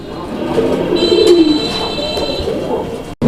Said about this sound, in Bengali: এটাও একটা পোর্টার কবুতর অ্যান্ড এটা হচ্ছে রেড কালারের ম্যাকপাই পোর্টার